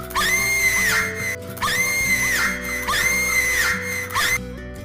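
Screams rising from a haunted well in a Hindi cartoon story, three long, loud, shrill wails in a row with brief pauses between, heard alone.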